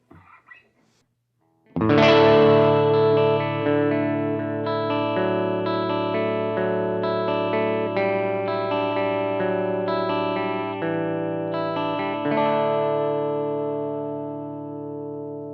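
An electric guitar rings out through a Marshall Class 5 tube amp with mids maxed, pickup in middle position, a bright sustained chord followed by a few more notes, close and loud with a slight warm grit.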